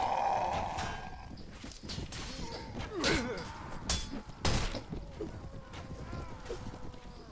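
Horse hooves clip-clop and thud at a gallop in the medieval combat game Mount & Blade Warband, a busy battle scene with whacks and a whinny layered over continuous game noise and talk.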